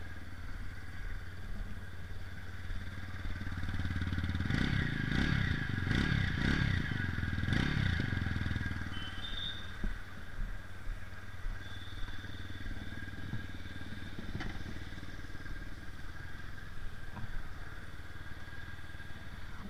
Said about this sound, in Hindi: सबसे पहले इसका एग्जॉस्ट नोट आपको सुना देता हूं मैं।